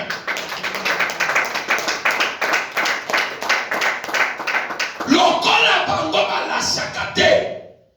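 Church congregation clapping in steady rhythmic beats while a preacher's voice carries over them, then the claps break into denser cheering and shouting toward the end.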